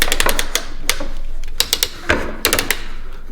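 A series of sharp mechanical clicks and ratcheting snaps from the side swivel of a Yzoni portable rechargeable LED work light, close up, coming in quick clusters with short pauses between them.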